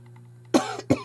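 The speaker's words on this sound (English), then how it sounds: "Still coughing from my Las Vegas trip." Two sharp coughs from a person, the first at about the midpoint and a second shortly after, close and fairly loud over a low steady hum.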